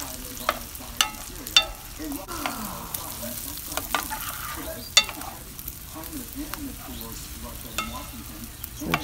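Eggs and vegetables sizzle steadily in a non-stick pan for fried rice, with a continuous crackling fry broken by sharp utensil scrapes and taps scattered throughout, fairly close and moderate in level.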